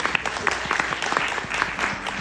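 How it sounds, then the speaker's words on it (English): Audience applause at a mental health panel, a steady wash of clapping at moderate level with faint voices mixed in for a couple of seconds. "Let's give her a quick round of applause."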